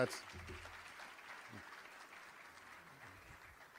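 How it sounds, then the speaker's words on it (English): A crowd gives a round of applause at a Crown Heights community evening, a steady wash of clapping that stays moderately distant and fairly even throughout. "So really give a round of applause for that."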